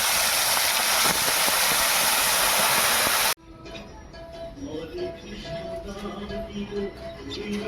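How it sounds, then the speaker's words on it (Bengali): Large pieces of bhola fish, rubbed with salt and turmeric, go into hot oil for a sour curry. A loud, dense sizzle fills the first few seconds, then gives way to quieter frying and clatter. "মাছগুলোকে ভেজে নিই।"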